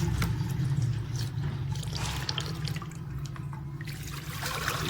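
Fresh mint leaves are swished and rinsed in a bowl of water to clear away soil, producing continuous soft trickling and sloshing close by at a low, even level under a steady background hum.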